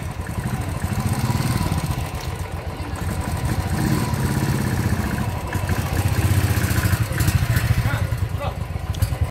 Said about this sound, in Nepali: यो चाहिँ सो पगलाले मेरो बाइक कुदाउँदैछ